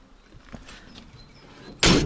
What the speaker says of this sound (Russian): Все три двери закрываются хорошо, но вот этот замок не работает.